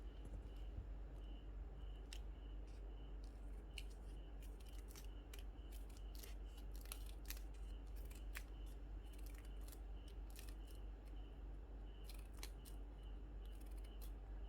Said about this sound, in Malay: Kita akan gunting pada bahagian yang bercantum ni, ya, yang terlipat.